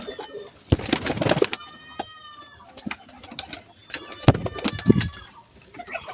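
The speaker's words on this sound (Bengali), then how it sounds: "এই যে একটা কবুতর" Pigeons cooing in a loft on a festive morning, repeated soft coos in two bursts with wing flaps and rustling, close by, with bright higher bird chirps threading through and no talk.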